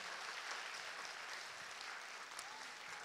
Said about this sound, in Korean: 다시 한번 박수 좀 보내주시겠어요?